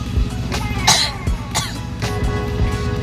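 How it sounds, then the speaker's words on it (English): A woman coughs repeatedly in a short fit aboard a ferry, several harsh bursts close to the listener over a steady background hum. "She's having a coughing fit."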